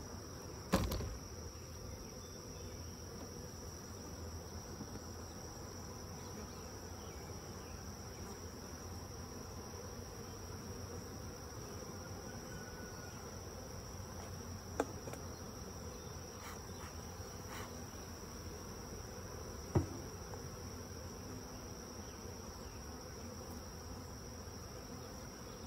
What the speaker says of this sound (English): There's a few more bees.